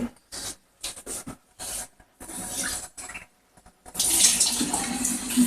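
Water poured into a cup while preparing Xàtiva monjàvena, several short close splashing bursts separated by pauses, then a longer steady trickling pour toward the end.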